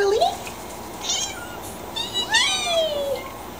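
A cat meows in a quarantine room for cats that tested positive: a short meow, then a longer rising-and-falling one, fairly close, with a voice speaking softly nearby.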